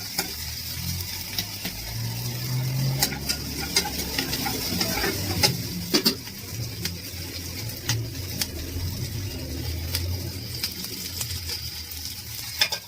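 Onions and curry leaves fry in hot oil with a steady close sizzle, broken by frequent sharp clicks and scrapes of a spoon stirring in the pan, with no one talking.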